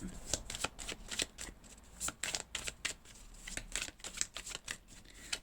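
Playing cards are shuffled before a card is drawn, with rapid, close riffling flutters and papery snaps repeating in quick bursts throughout.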